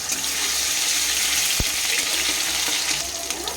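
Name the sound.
ginger garlic paste frying in oil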